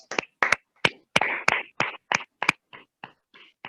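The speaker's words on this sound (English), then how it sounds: "please give a big round of applause to Toastmaster Sanjay Rao" Sparse, evenly spaced hand claps from a small audience at a Toastmasters meeting in Bangalore, about a dozen crisp, close claps that thin out toward the end.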